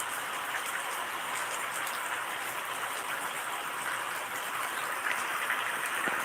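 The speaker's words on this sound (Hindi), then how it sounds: "बहुत अच्छी बारिश हो चुकी है" Rain falls steadily, a soft, even hiss of drops on surfaces that holds without pause and with no voices over it.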